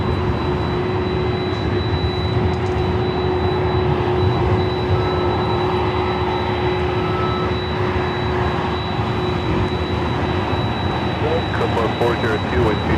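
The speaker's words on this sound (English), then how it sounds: "You can hear that Delta 767 400ER" Delta Boeing 767-400ER jet engines roar at LAX airport, a steady broad rumble with a high whine holding throughout, loud and continuous, with voices faintly present underneath.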